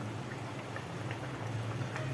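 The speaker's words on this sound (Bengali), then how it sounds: "জল তো ফুটছে টুকবুক করে" Water for a fish curry bubbles and burbles at a steady rolling boil in a pot, a continuous close churning with small pops.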